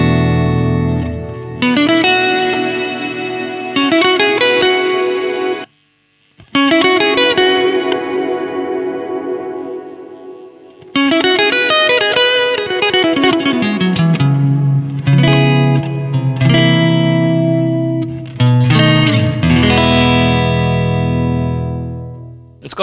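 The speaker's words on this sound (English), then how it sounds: "I like the hall reverb." Electric guitar played through a Fender Marine Layer reverb pedal on its hall setting, sustained chords and single notes ringing out with long washy tails, loud and close with brief pauses between phrases.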